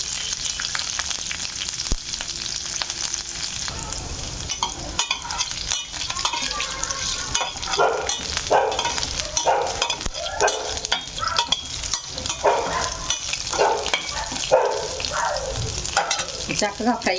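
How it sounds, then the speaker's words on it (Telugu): Green chilies and other ingredients frying in a pan for a pesarattu and green chutney recipe, a steady loud sizzle throughout with repeated scraping stirs from about the middle on, no talk. "అలాగే పచ్చిమిర్చి కూడా ఇవన్నీ చక్కగా ఫ్రై చేసేసుకోవాలి"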